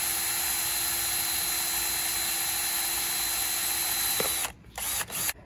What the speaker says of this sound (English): Drill you some holes in here.